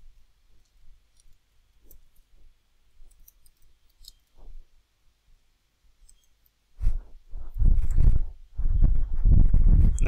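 A few faint computer mouse clicks, spaced apart in a quiet room, followed by a louder burst of clicking and handling noise toward the end.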